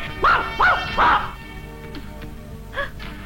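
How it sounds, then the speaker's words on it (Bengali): A dog barks three times in quick succession close by, then gives one shorter bark after a pause, with faint room sounds between. "একটা কুকুর আমাকে দেখে দৌড়ে পালিয়ে গেছে।"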